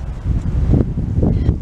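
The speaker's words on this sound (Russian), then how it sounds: "ветер сегодня какой-то нехороший в деревьях. Слышите, как шумит сильно?" Strong spring wind roaring through trees outdoors, a steady broadband rush with gusts swelling near the middle and end, plus some microphone buffeting, with no talk.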